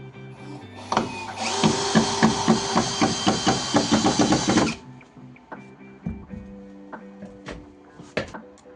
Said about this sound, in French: J'ai juste à mettre de niveau et visser.